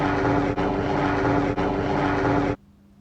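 A loud, steady rotor-and-engine roar with a rhythmic beat fills about two and a half seconds, then cuts off abruptly, leaving quiet. No voices.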